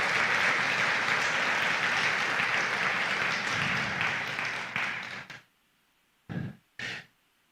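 A church congregation claps in praise during a Spanish-language sermon, dense applause lasting about five seconds then fading, followed by two brief isolated sounds in near silence.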